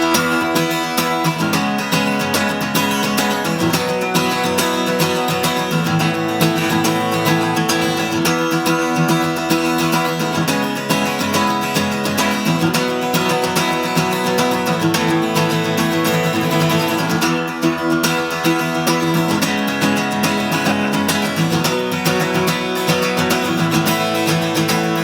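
Acoustic guitar strummed continuously in an accented groove, a dense, even pattern of chords with regular stressed beats, loud and close throughout with no talking.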